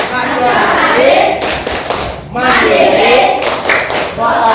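A class of schoolchildren clapping a rhythmic chant-clap in bursts, loud and close, with children's voices chanting along between and over the claps.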